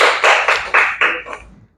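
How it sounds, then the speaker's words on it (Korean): A handful of loud, sharp claps from a church congregation in a slow, even rhythm, then a quieter final one fading out. "박수 한번 쳐요."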